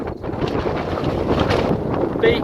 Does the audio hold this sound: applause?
no